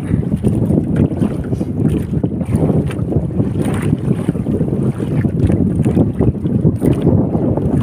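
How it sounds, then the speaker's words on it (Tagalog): Strong wind roars steadily over a small fishing boat out at sea during traditional handline fishing, loud buffeting gusts battering the microphone with no break. "Grabe nga hangin, no?"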